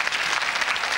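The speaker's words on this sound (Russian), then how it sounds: "аплодисменты ваши не случайны" A television game-show studio audience applauding, dense, even clapping from many hands, close and sustained through the whole moment with no voices over it.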